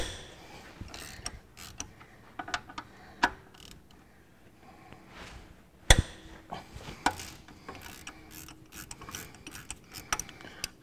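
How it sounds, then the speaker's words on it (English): A small ratchet works loose a nut on a Ferguson TEA20 engine, producing close, scattered metallic clicks and clacks with irregular spacing and one sharper knock partway through. "Okay, I've got my little ratchet."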